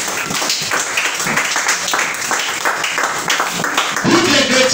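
A church congregation claps and applauds for Jesus Christ during a lively worship service, with loud, continuous, dense clapping alongside voices calling out.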